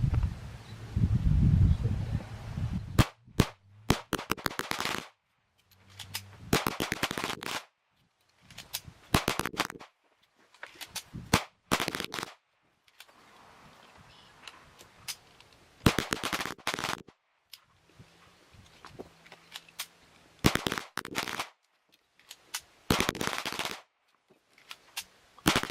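A Tisas BR9 pistol fires shot after shot in an endurance test, loud sharp reports in quick strings and bursts with brief pauses, alone without talk.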